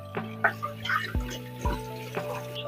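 Hot water runs from a kitchen tap as hands are washed, a faint splashing trickle with a few small knocks and clatters close by.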